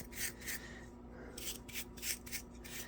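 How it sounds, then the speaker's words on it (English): Close, quiet scuffing strokes against a model starship's surface, a series of rhythmic back-and-forth rasps with a short pause partway through, heard with no one talking. "Scuff it up just so that there's plenty for the adhesion promoter and then the paint to grab onto."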